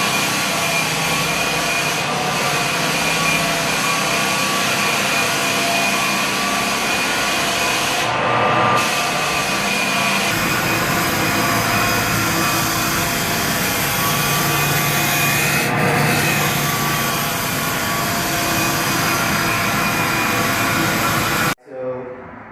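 A floor sander grinds across a hickory pecan wood floor, a steady loud machine drone with rough abrasive texture running almost without a break, two short dips midway, then cutting off near the end.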